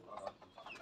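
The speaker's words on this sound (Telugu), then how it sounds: "కోళ్ళు చూపిస్తాను పదండి ఫ్రెండ్స్ కోళ్ళు." Village backyard chickens give a few soft, short clucks, faint and close together, in a quiet evening setting.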